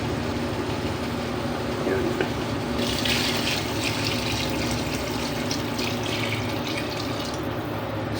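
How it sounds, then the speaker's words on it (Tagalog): Water runs steadily for several seconds, a continuous splashing pour into a cooking pot with garlic, over a low background hum. "lalagyan na po natin ng tubig"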